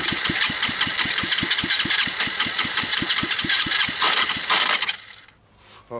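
A cheap ATV engine cranks with a rapid, regular chugging rhythm, then catches and settles into a quieter idle near the mic.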